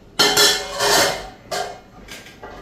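Metal cooking pots clank and scrape as they are set down on a stove to boil eggs and rice, a few sharp bursts of clatter close by with short pauses between them.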